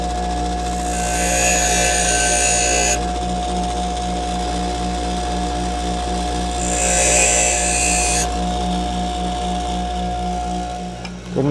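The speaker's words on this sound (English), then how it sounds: "I'm going to drill these out probably with like 5/16, I believe." A power drill with a 5/16 bit bores out holes around a bolt, running steadily with two bursts of high-pitched cutting whine over a constant motor hum.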